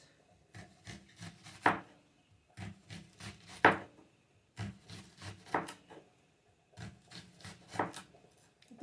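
A knife cutting leek into large thin slices on a wooden board, repeated rasping strokes in clustered groups with sharp taps in between, close and clear, no talk over them.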